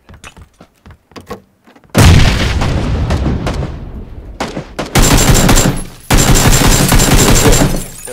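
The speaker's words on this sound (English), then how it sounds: "Throwing a grenade." A PUBG grenade goes off after a few quiet clicks, a loud close blast followed by rumbling debris and a second heavy burst of crackling detonation that fills the rest of the stretch.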